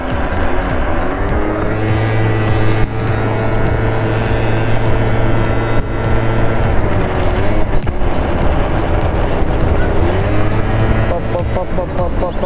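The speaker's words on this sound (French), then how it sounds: "c'est complètement détente les roues arrière sur un booster" Scooter (booster) engine held at a steady drone while riding a rear-wheel wheelie, the motor note loud and continuous throughout, with a faint voice beneath it.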